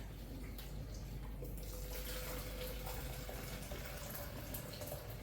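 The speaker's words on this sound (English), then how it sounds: "So I'm going to fill up the jug." Tap water runs steadily into a jug on a kitchen bench, a continuous close hiss and splash that holds level throughout with no talking.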